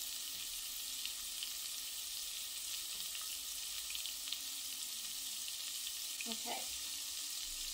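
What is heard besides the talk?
beef browning in hot butter in cast iron Dutch oven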